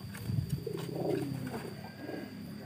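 Low, soft cooing of a black-and-white pied pigeon repeats in short bursts, close by, with faint rustling and a steady background hum.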